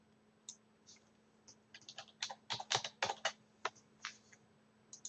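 Typing on a computer keyboard while adding text annotations to a PDF: irregular bursts of sharp key clicks, sparse at first, then a quicker cluster of louder strokes, close and clear over a faint steady hum, with no talking.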